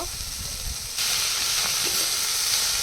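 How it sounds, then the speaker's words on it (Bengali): Pipul greens tossed into a hot pan and stir-fried, with a steady loud hiss of steam and frying that swells once the leaves go in, plus a few faint stirring scrapes, close and without talking. "এবার শাকগুলো দিয়ে একটু নেড়ে চেড়ে নেব"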